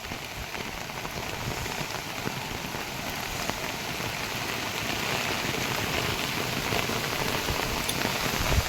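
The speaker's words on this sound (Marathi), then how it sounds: "इतका पाऊस झालेला आहे आमच्याकडे चालू सुद्धा आहे" Heavy monsoon rain pours steadily in Khojewadi village, a dense, continuous hiss of drops on surfaces that holds at an even loudness throughout, with no voices.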